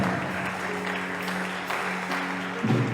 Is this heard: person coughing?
no